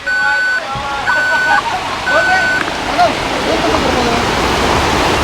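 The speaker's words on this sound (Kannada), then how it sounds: "ನೋಡಿ ಘಟಪ್ರಭಾ ಇಲ್ಲಿ ಎಷ್ಟೊಂದು ವಿಶಾಲವಾಗಿ ಹರಿತಾ ಇದ್ದಾಳೆ" The Ghataprabha river flowing broad and wide in a natural setting, a loud, steady rush of water filling the whole scene, with repeated electronic beeps and a voice over it.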